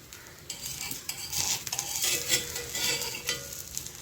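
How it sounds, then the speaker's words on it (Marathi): A wheat flour dosa cooks under a lid in a pan with ghee, giving a soft, steady sizzle. A few metal clinks and scraping sounds stand out close by, and no one speaks. "झाकण काढून बघते मी थोडंसं तूप लावते मी"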